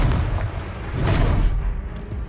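Confringo blasting spell going off in Hogwarts Legacy, a dense rumbling boom with crackling noise that swells and fades over a couple of seconds, loud and close.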